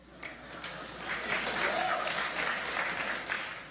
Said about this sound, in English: You hear the applause at the end?